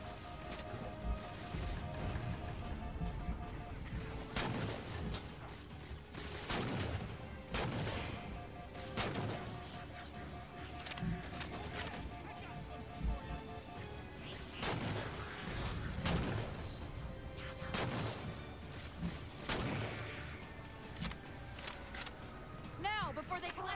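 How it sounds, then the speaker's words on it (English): Heavy chain gun fire from Halo 4 comes in repeated loud bursts of booming shots amid ongoing battle noise, with a voice talking over much of it. "Let's go hit up that chain gun."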